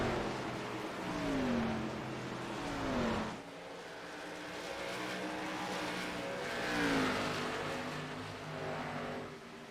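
Race cars lapping Phoenix in an iRacing Xfinity Series race, several engines droning and rising in pitch as they accelerate through the corners, a steady close-up roar with a brief dip midway.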